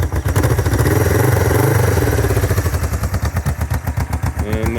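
1968 Honda CL450 scrambler with high pipes warming up, a close, loud, throbbing twin-cylinder idle whose exhaust pulses become sharper and more distinct as it settles.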